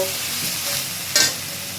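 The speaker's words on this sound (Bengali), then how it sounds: "এই যে এখানে বাঁধাকপি তরকারি হয়ে এসেছে রান্না করছি" Cabbage curry being stirred and fried in a pan, a steady close sizzle with light scraping strokes and one brief sharper scrape partway through, no voices.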